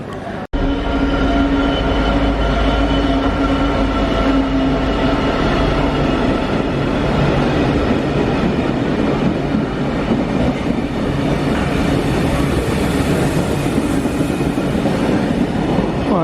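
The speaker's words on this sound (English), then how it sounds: "Well, that is a Corby Steel." A Corby steel freight train rolls past close by, a steady loud rumble of wagons with rhythmic wheel clatter and faint squeal throughout, after a brief sharp click at the start.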